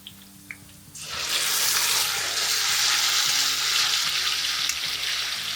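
Minced meat keema with masala drops into a hot pan and bursts into a loud, sustained sizzle after a quiet start, with a few faint clinks, continuing steadily to the end.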